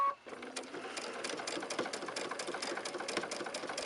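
A sewing machine stitching a quilt block runs with a steady, rapid mechanical whir close by, starting after a brief pause at the beginning.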